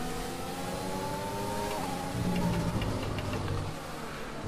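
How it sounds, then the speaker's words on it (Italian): A Formula One car in the F1 2020 racing game runs with a failing engine, its steady mechanical drone and faint ticking continuing throughout, swelling slightly louder midway before settling back. "Sta per esplodere il motore, raga."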